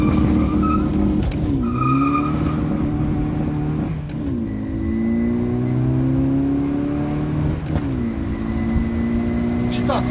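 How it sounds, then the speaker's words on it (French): Close engine roar of a VW Golf Mk6 GTD accelerating hard through the gears, the pitch climbing and then dropping at each shift, with pops between gears and a voice talking over it. "Putain, ça pète à chaque rapport"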